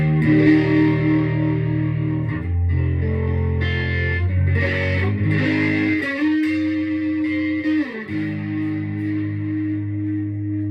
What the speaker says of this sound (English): it's not fuzz, but it's the distortion sound which come after fuzz